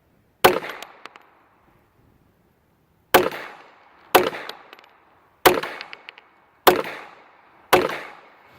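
Six sharp gunshots from a High Standard Sport King .22 pistol, each a loud crack with a short decaying tail: one alone, then after a pause five more in an uneven string, with no talking.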